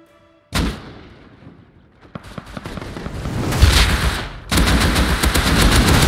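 Rapid bursts of AK rifle fire in the video game Rust, loud and close, coming in dense volleys after a quiet start and then a sustained stretch of continuous shooting near the end.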